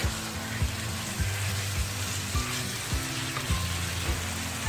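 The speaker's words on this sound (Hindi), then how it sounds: "हमें इसे 1 मिनट तक पकाना है ताकि वेजिटेबल्स से थोड़ी सी सौते हो जाए।" Vegetables sauté in a hot pan for a chicken curry khaosay, a steady close sizzle and crackle with a few soft scraping stirs against the pan, no talking.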